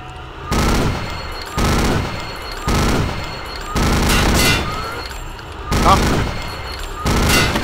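Repeated loud bursts of automatic gunfire in a shooter game, coming in short volleys about every second or so with brief gaps between them.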